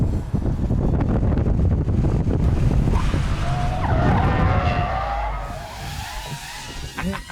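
A car skids through a handbrake turn, a loud continuous rush of tire and engine noise with wind buffeting, then a squealing tire screech rising in the middle before the sound eases off toward the end.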